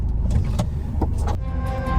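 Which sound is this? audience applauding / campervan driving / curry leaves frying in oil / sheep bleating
campervan driving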